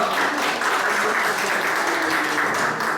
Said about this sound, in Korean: 우리 김장훈 교수님 큰 박수로 모시면서 2부 토론 이어가도록 하겠습니다.